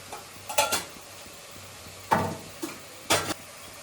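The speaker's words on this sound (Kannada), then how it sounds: "ಎಲ್ಲ ಮಸಾಲನ್ನ ಹಾಕಿ ಕ್ಲೀನಾಗಿ ತಿರುಗಿಸ್ಕೊಂತಿದ್ದಾರೆ" Spoon scraping through masala of chilli powder and turmeric in a cooking pan, a few brisk separate stirring strokes heard close up against a faint background sizzle.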